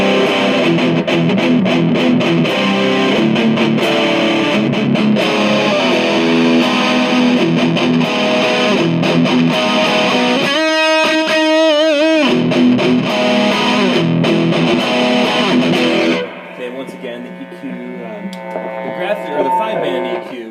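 Heavily scooped, distorted electric guitar through a Mesa/Boogie .50 Caliber+ 50W combo amp with gain around 8, loud close riffing and chords with a brief sustained bent-note passage, trailing into softer noodling at the end.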